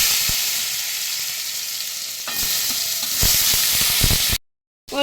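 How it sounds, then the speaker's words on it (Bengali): Chunks of elephant foot yam fry in hot mustard oil in a kadai, giving a continuous loud sizzle with occasional stirring clatter, briefly cut to silence near the end. "ওলগুলো দিয়ে দেবো তেলের মধ্যে।"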